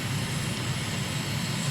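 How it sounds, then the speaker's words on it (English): A plane's engine drones in Microsoft Flight Simulator on a flight over Delhi, India, a steady broadband roar with a low rumbling hum, even and continuous with no talk. "let's start flying the plane again"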